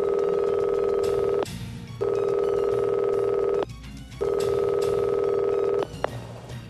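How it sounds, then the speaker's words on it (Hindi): A telephone rings in repeated long steady electronic tones with short silent gaps between them, loud and close, with no talking over it. "Salman Khan hit and run प्रकरणातील प्रमुख साक्षीदार मुस्लिम शेख याचा फोन खणखणतो"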